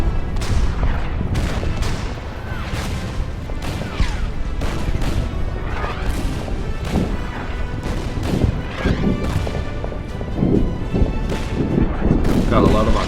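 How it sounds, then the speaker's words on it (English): An artillery barrage in the World War II strategy game Order of Battle, set on the Burma Road during the fall of Singapore. Dense, overlapping booms and crashing impacts pound almost continuously at high volume. "Artillery barrage."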